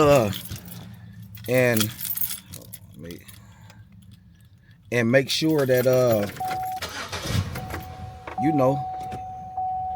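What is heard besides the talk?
keys jangling and car engine starting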